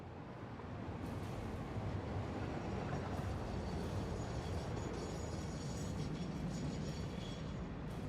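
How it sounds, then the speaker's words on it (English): A train rumbling far off, a steady broadband low roar that holds evenly throughout with no distinct horn or clatter, alone with no voices. "I do hear the train though."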